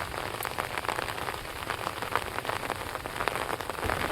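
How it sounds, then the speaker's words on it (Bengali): Heavy monsoon rain falling in the Sundarbans forest near the Raimangal river: a dense, unbroken patter of drops on surfaces, steady and close with scattered sharper splashes. "বৃষ্টির মাঝে রায়মঙ্গলের পরিবেশ দেখুন"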